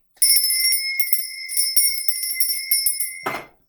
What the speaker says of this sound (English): I'm going to ring my bell just to cleanse the air.